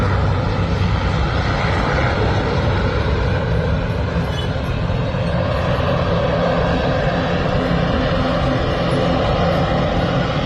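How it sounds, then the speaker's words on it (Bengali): A loud, steady roar of a Dash propeller airliner's engines as it takes off runs without a break, broad and close, with no voices. "এখনই ফ্লাই করবে বিমানটি"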